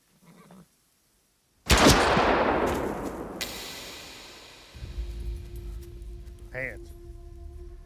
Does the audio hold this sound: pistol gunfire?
yes